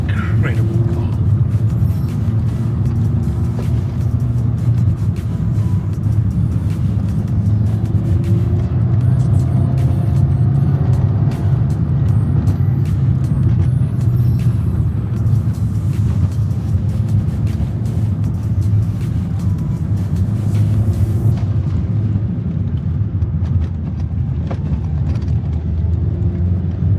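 A Suzuki Swift Sport hot hatch on the move, with a steady, loud engine and road rumble that continues without a break throughout.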